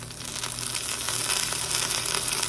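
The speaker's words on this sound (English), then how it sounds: "I'm going to drop in some Worcestershire sauce" Shrimp creole sizzles and fries steadily in a hot pan as Worcestershire sauce is added, a continuous crackling hiss close up with no talking.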